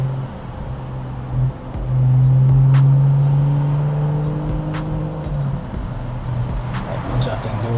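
BMW 540i engine and exhaust while driving at night, a steady low drone that swells into a louder sustained tone for a few seconds before settling back, with a person talking over it.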